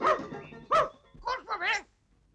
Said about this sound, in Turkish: Kurtarın beni, köpek geliyor.